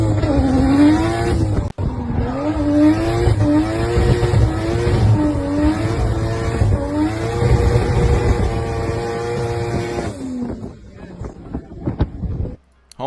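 A 500-horsepower tuner car driven hard, its engine loud and close with rising and falling revs as it shifts through gears for about ten seconds, then cutting off abruptly into quieter noise.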